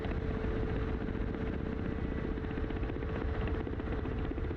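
A Black Shark 2 attack helicopter flies in a video game, its rotor and turbine producing a dense, continuous loud drone with a steady whine and no speech.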